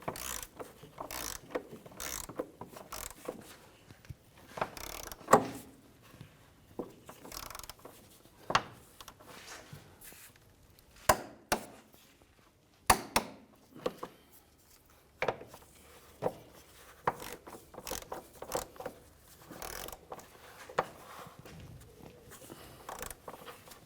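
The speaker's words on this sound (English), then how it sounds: "with our top and bottom bolts on our shock torqued down" Bolts on a rear shock absorber of a 2015-2019 Hyundai Sonata are tightened with hand tools, giving sharp, irregular metallic clicks and ratcheting bursts with quiet gaps between them, close by and without talk.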